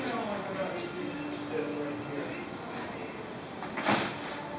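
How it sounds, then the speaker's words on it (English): Sliding glass lanai door on a house under construction, heard as a faint continuous rolling slide ending in a soft bump, with people talking over it. "can you slide that door?"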